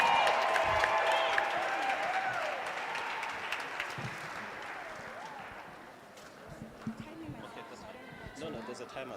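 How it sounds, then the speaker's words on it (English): Audience applause for the first contestant at a school of entrepreneurship launch event, a sustained crowd clapping that fades gradually over several seconds with a few scattered sharp claps toward the end. "let's give a round of applause"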